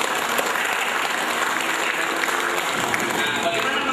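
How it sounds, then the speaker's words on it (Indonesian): A room full of people at an Islamic business motivation talk claps continuously, a thick, even wash of applause that holds steady throughout. "Kita tepuk tangan untuk kita semua."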